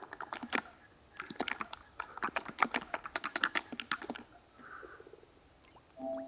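Someone types a search on a computer keyboard: a quiet, close run of quick clicking keystrokes in uneven bursts, pausing briefly before a few final taps.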